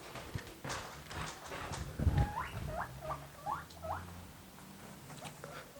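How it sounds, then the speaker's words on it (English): Pet guinea pigs squeak excitedly in a quick run of rising, whistle-like calls, close and fairly loud over faint background rustling. "once I open the fridge, they're going to start squeaking"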